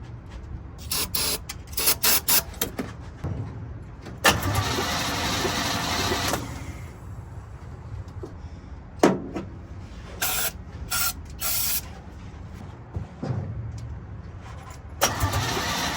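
Hot rod engine cranking over and over after a shot of brake cleaner but never firing: repeated whirring starter bursts with pauses and clicks in between, close and fairly loud.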